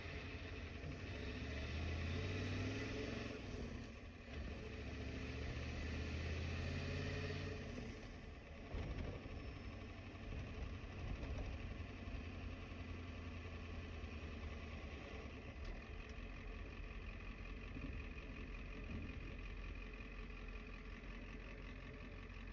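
A car running after a fresh ZF5 transmission install, its engine idling and revving steadily at close range with a rough, droning mechanical tone throughout, a few clunks near the start and no talk.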